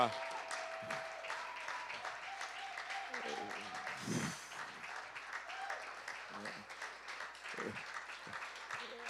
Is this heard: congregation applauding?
yes